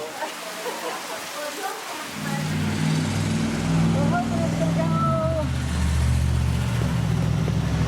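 Rain falls during an outdoor peace walk, a broad steady wash that thickens after the first couple of seconds, joined by a low droning hum like a passing engine or vehicle, loud and close, with no speech.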